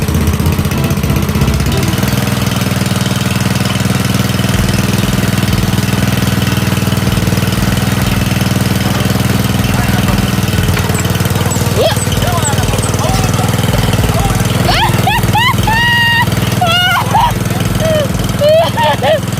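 An old riding lawn mower engine running steadily with a loud, rough mid-pitched drone throughout, close by, while people talk over it near the end.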